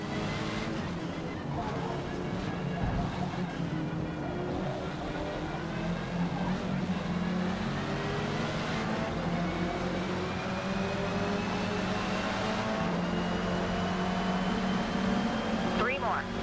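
Racing car engine in the Forza Motorsport video game, revving up and down quickly through a long continuous stretch with shifting pitch as the car races around the track, a voice talking over it throughout.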